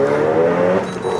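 A Renault Megane RS engine drones under load through quick gear shifts, a loud close hum with a slight dip and change in pitch partway through, heard from inside the car.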